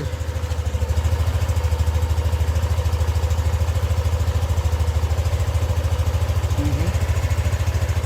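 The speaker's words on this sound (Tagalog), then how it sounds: "Yan yung tunog ng makina mga boss" A motorcycle engine idles steadily after starting, with a low, rapid, even putter throughout, close and loud, with a faint brief chirp near the end.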